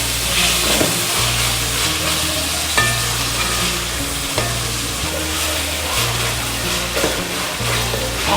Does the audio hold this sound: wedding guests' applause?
no